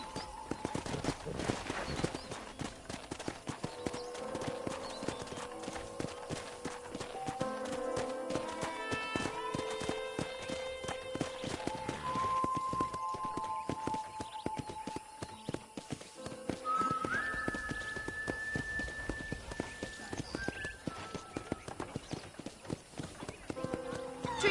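Horse hooves clip-clop steadily at a walking pace in a ranch video game, a continuous rhythmic clatter under ongoing speech.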